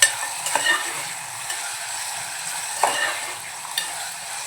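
Ginger, garlic and green chili paste is stirred in a hot pan with salt, giving a continuous sizzle broken by scraping strokes and a few clear spoon taps near the start and end.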